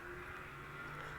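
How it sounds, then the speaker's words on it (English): Steady engine rumble from motorcycles outside, a continuous droning hum at moderate distance with no clear pass-by peak. "I don't know if you can hear the, like, motorcycles outside"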